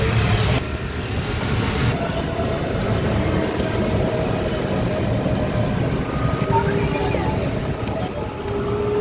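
An e-rickshaw ride through Delhi traffic on a hot Sunday on the way to the Red Fort: a steady electric motor whine and road rumble with wind noise, and faint traffic in the background.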